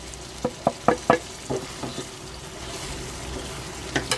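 Brain masala frying in a pan, with a light sizzle under a series of sharp clicks and knocks from stirring, close up and without talk.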